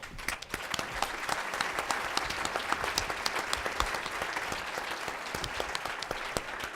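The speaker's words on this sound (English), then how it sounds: "let's give them another round of applause." An audience at a community forum applauds a panel, dense and steady clapping heard from a distance in a hall, fairly faint and even throughout with no voices over it.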